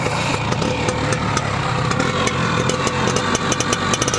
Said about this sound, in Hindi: अब सुनाते हैं इसकी engine sound, silencer sound start करके सुनाते हैं आपको कैसी साउंड है।